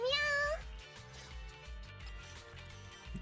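A cat meows once, clear and rising, in the video game Zenless Zone Zero, over a steady game-style music loop with a thumping beat.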